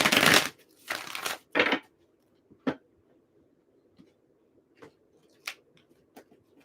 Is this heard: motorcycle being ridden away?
no